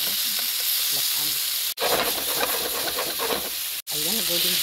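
Beef browning in a pan for Filipino beef kaldereta, with a steady loud sizzle and crackle of frying throughout, broken by two brief silent cuts, and a voice surfacing faintly near the end.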